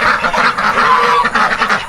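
A flock of farmed ducks quacks in a dense, continuous chorus at feeding time on a farm garden plot in North Kalimantan, loud and close with overlapping calls throughout.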